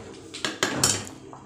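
A metal lid goes onto a cooking pot of village-style pumpkin and chana dal curry. Three or four close, clanking knocks follow one another quickly, then a faint settling tap.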